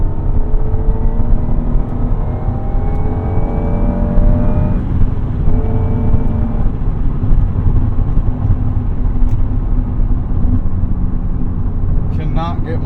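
A 1996 Acura NSX-T engine pulls hard under acceleration while driving, the pitch climbing steadily, dropping at a shift, then rising again, loud and close throughout.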